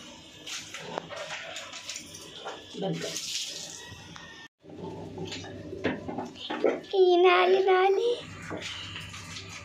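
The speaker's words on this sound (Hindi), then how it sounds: "ये गोलू नहा रहा है गरम गरम पानी।" Warm water runs while a pet cat is bathed at home, splashing and trickling in bursts under a child's and adults' chatter, with a brief break and a high whining sound near the end.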